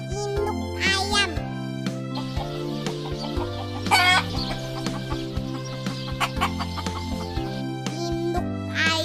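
A hen clucks in short bursts over a steady backing of synthetic music tones, the clucks standing out clearly at intervals among farm-animal sounds.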